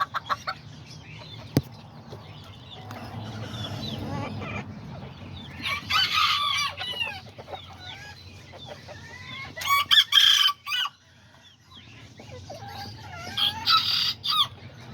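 A flock of Serama and Azteca chickens clucks and chatters, punctuated by several loud nearby crows, with quieter gaps between the bursts.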